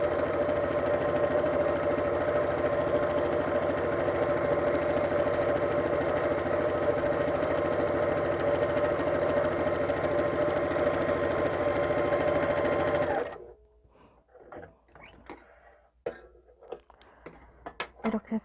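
A sewing machine runs steadily for about thirteen seconds, stitching a second row at a 0.5 cm presser-foot width in garment sewing, then stops and leaves faint handling clicks and rustles.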